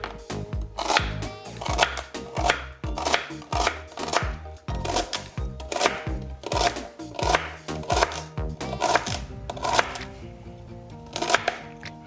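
A knife chops celery for lentil soup on a cutting board, giving crisp, close, rapid strokes in a fairly steady rhythm across the whole stretch, with slight pauses between runs.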